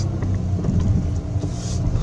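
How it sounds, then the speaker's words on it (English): A 2012 Dodge Grand Caravan minivan rolls slowly after brake booster work, giving a steady low engine and road rumble from inside the cabin with no talk. "Let's go for a slow, nice drive and see what happens."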